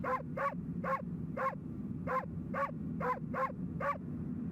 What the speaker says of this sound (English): I got a dedicated bark button.